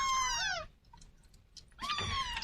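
Young Siamese kittens give two clear, high meows separated by a short quiet gap, close to the microphone and fairly soft, with no one speaking.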